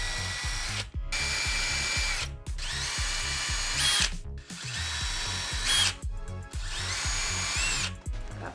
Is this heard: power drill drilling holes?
yes